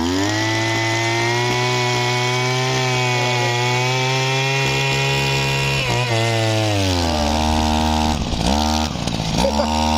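A small petrol engine on a Mitsubishi TL33 post-hole auger runs steadily at high revs, then its pitch dips and wavers as it bogs under load while digging, loud and close with no talking.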